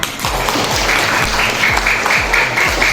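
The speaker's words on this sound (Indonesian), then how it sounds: "tepuk tangan dulu untuk kita semuanya" Classroom applause from students in an Islamic jurisprudence lesson, a brisk ongoing patter of clapping hands with a rhythmic low thumping beat running underneath, fairly loud and close.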